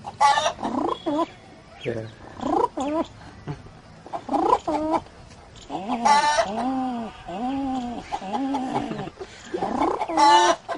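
A man mimics a pigeon, a run of throaty cooing and clucking sounds with rising and falling pitch, interspersed with sharper squawks.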